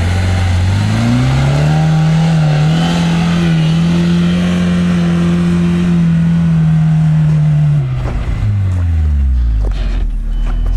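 Lada Niva engine revving hard in a sand quarry, a loud close roar that climbs, holds at high revs for several seconds, then drops away as the throttle is released.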